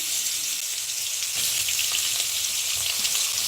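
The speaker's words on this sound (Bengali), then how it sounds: "তেলটা গরম হয়ে গেছে একটা শুকনো লঙ্কা ফোড়ন দিয়ে দিলাম এবার ফার্স্টে মূলোগুলো দিয়ে দিচ্ছি" Radish pieces fry in hot oil tempered with a dried chilli, a dense, even hiss of sizzling close by, steady for the whole stretch with no voices.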